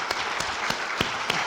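A round of applause from the audience at an Indigenous business forum honouring incubator graduates, steady crowd clapping with a few distinct louder claps, moderately loud and without speech.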